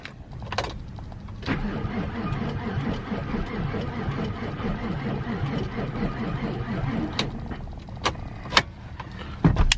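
A car engine cranks without starting after starter and alternator testing, a steady close whirring churn of the starter lasting several seconds, with a few sharp clicks near the start and end.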